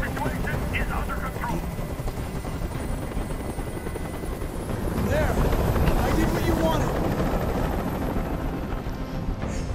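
A helicopter in the game Detroit: Become Human, its rotor chop a loud continuous drone that swells midway, with wind noise and people talking over it.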